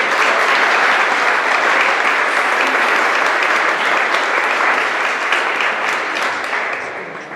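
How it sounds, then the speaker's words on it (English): A large audience at a spring athletic awards ceremony gives sustained, dense applause that stays loud throughout and tapers slightly at the end. "you guys deserve a round of applause."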